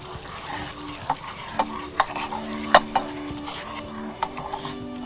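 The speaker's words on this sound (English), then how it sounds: "So we really want to cook this until the sugar starts to melt into the butter." Brown sugar caramelizing in melted butter in a pan, with a steady broad sizzle and several sharp clinks and scrapes of a utensil stirring against the pan, fairly close and without talk.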